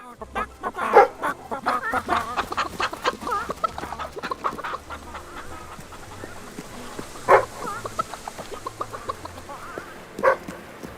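Chickens cluck repeatedly in the Fable 3 video game, with sharp louder squawks standing out near the start, middle and end over a soft steady background tune.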